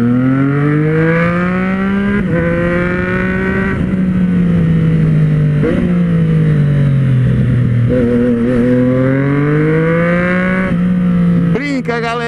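Close, loud revving from a motorcycle with a Carbox sport exhaust, the engine pitch climbing and dropping repeatedly in long throttle blips over a steady growl.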